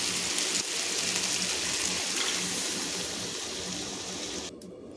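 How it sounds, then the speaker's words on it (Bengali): Water being poured into a pot of mutton and potato curry with cauliflower makes a steady, soft splashing rush that continues throughout, then cuts off near the end. "তো এবার এখানে দিয়ে দেব পরিমাণ মতন জল।"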